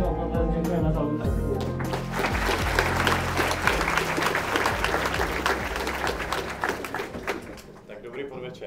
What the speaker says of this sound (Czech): prosím o potlesk, děkujeme za účast